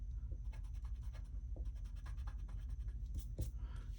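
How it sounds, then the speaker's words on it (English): A pencil eraser rubs back and forth over paper, clearing guide lines from a two-point perspective lettering drawing; rapid, faint, repeated scratchy strokes sit over a steady low hum, with no voice. "And then I could come in here and erase the lines I don't need."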